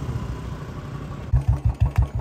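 A Royal Enfield Bullet BS4 motorcycle engine idles with a low, even thump through its exhaust, then is revved in a quick run of loud, punchy bursts near the end; no voices.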